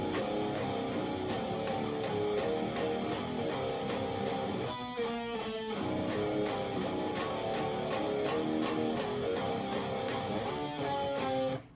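An electric guitar plays a riff phrase with octave harmony parts, driving and distorted, with fast repeated chugging notes and a short break midway before the pattern resumes.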